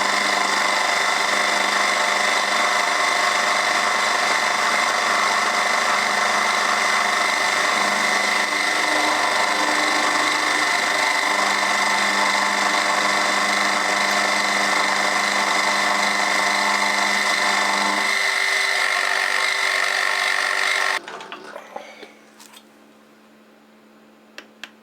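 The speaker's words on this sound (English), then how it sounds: "I'll just get this top piece milled off now." A milling machine cuts the top piece off a carbide-tipped lathe tool, a steady high whine with broadband cutting noise held for about twenty seconds before the spindle stops and the shop falls quiet.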